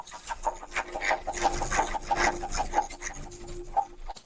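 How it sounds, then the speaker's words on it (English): The oil pump of a third-generation Volkswagen Audi EA888 engine makes an abnormal noise: a close, rhythmic scraping rasp with repeated squeaky chirps pulsing roughly twice a second over a faint engine hum. "Abnormal noise from the oil pump."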